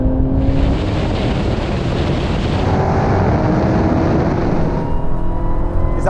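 A supercharged V8 Dodge Challenger Demon drag races a Porsche 911 Turbo S, giving a loud, continuous engine roar that holds a sustained, rising tone throughout.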